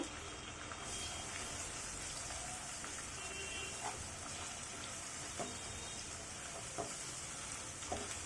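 Onions sizzle and crackle steadily in hot oil as ginger-garlic paste goes in, a close, continuous frying hiss with occasional small pops and stirring scrapes.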